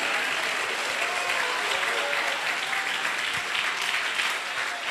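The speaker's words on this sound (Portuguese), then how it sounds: "Desocupem as mãos, batam palmas e glorifiquem a Jesus" A church congregation claps hands together in a steady, dense wash of applause that holds at an even level throughout, with faint voices mixed in.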